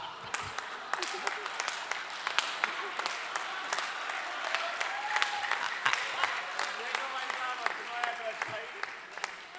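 Audience applause at a Hindi poetry recital (kavi sammelan) for poet Hariom Panwar, a steady crackle of many hands clapping in a large hall, sustained for nearly ten seconds.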